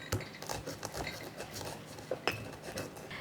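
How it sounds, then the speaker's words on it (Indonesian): Pestle knocking and grinding in a stone mortar, crushing candlenuts and nutmeg into Balinese bumbu; a run of irregular close taps and scrapes, fairly quiet, with no voices. "saya akan ulek dulu biar halus."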